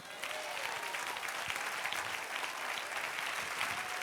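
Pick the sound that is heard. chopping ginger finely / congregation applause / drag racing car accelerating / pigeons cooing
congregation applause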